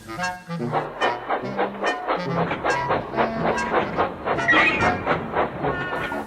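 Percy the little green tank engine pulls hay-laden wagons toward the station, a rhythmic clanking rolling beat of wheels and couplings with some tonal notes mixed in, steady and fairly close throughout.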